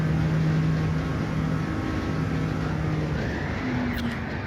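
In Gran Turismo 7, a race car brakes hard while carrying too much speed, its engine drone steady and loud with tyres scrubbing under heavy braking as the pitch shifts down near the end.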